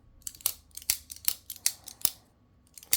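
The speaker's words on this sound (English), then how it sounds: "clickety clack, super fidgety, probably the most fidgety knife in my collection" Flytanium Arcade folding knife clicking open and shut as it is fidgeted, a series of sharp, close metallic clicks in an uneven rhythm, quiet between each snap.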